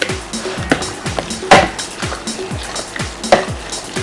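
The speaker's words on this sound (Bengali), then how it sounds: "এখন এটা আমি চামচ দিয়ে মিশাবো, এখন আর বিট করব না" Black forest cake batter foam being folded by spoon in a bowl, with soft repeated scraping strokes and a couple of louder clinks against the bowl rim.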